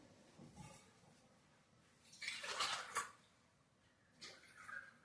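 Water poured into a pan of Kerala-style chicken perattu curry, giving a short splashing, sizzling burst near the middle and a softer second burst near the end against quiet kitchen background.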